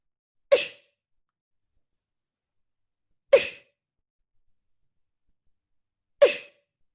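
Three sharp, evenly spaced beatbox snare sounds, a voice imitating a sneeze-like burst, each short and crisp, with silence between them.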